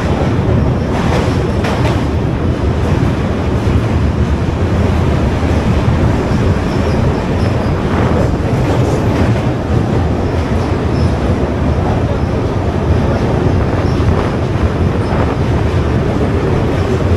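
The Vivek Express rumbles across the Brahmaputra bridge in a loud, continuous roar of wheels and carriages, with a steady rhythmic rattle throughout and no talking.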